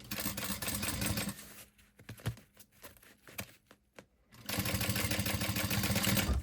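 A sewing machine back-stitching fabric pieces for a pet pack, with steady motor whirring and needle chatter at the start and end and a quieter pause of clicks and handling in between.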